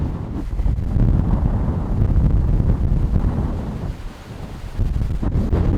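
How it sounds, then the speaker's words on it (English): Strong wind buffets the microphone outdoors in the Simpson Desert, making a heavy, low, rumbling roar that swells and dips unevenly, with no voices over it. "Sorry about the wind, by the way."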